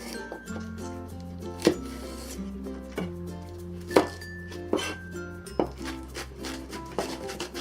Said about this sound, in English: Next, let's mince the green onion.